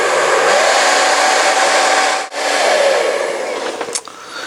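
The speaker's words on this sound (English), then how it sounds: "what you can use is a hairdryer, just to soften the ends of these particular pipes" A hair dryer blows hot air onto plastic water pipe ends to soften them, a loud, close, steady whirring hum that briefly cuts out midway, then resumes with faint handling noises near the end.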